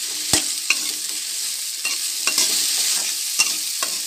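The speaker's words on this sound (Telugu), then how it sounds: "నూనె వేడెక్కాక బెండకాయలను ఇందులో వేసుకొని బాగా వేపుకోవాలి." Okra fries in hot oil with a steady sizzle, while a spatula stirs and knocks against the pan in sharp intermittent clicks, close and loud.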